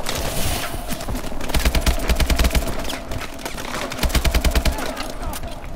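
Rapid automatic gunfire rattles in dense bursts during a Call of Duty: Advanced Warfare match, loud and close, pausing briefly before another sustained volley.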